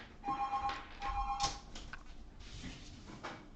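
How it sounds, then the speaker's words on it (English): A telephone rings indoors with two clear electronic ring bursts, followed by quieter handling and room sounds as it is picked up. "my phone's ringing"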